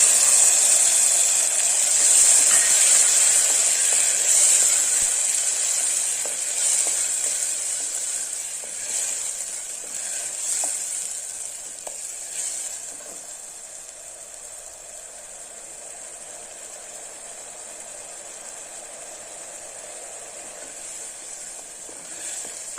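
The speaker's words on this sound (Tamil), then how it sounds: "அடிச்சு வச்சுருக்கேன் தக்காளி விழுது சேர்த்தேன்" Tomato paste frying in a pan for vegetable kurma, giving a steady, hissing sizzle that is loudest at first and gradually softens over about twenty seconds, with no talking.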